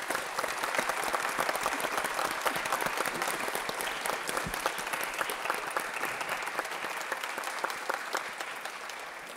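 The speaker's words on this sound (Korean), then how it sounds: "최형식 담양 군수님 박수로 맞아주시기 바랍니다" A large audience gives sustained, dense applause to welcome Choi Hyung-sik, Damyang county governor, at a regional forum, the clapping even and loud before tapering slightly at the end.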